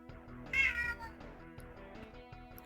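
A house cat meows once, close and clear, over a steady background of retro SNES game music playing throughout.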